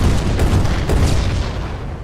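A Vulcan gun firing sniper rifle rounds in the video game Revulsion, a loud, dense rolling roar of shots with a booming low end that holds steady before easing slightly, with no voices.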